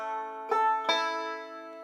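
A banjo rings out a short solo ending on the fiddle tune Bill Cheatum, two plucked chords struck over a sustained ringing tone that fades, played alone and close.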